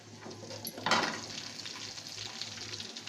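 Onions, green chillies, cumin, mustard seeds, coriander and curry leaves tempering in hot oil give a steady close sizzle, swelling into a brighter crackling burst about a second in before settling back.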